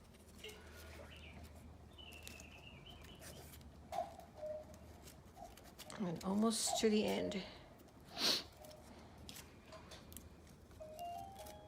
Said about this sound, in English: gotta listen to my cuckoo clock